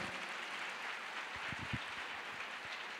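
Quiet, distant applause from an audience clapping for the king, a soft steady patter of many hands with a few closer claps near the middle.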